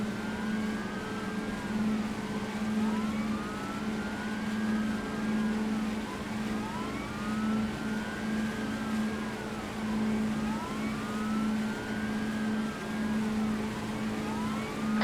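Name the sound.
police vehicles driving by with sirens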